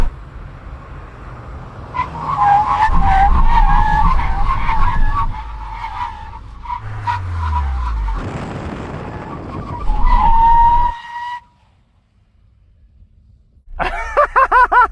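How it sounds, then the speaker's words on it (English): A VW Golf GTI brakes hard from 100 km/h in an emergency stop at a cone marker, tyres skidding and screeching loudly over several seconds before the car settles and the noise cuts out. "When we reach the cones, full emergency stop."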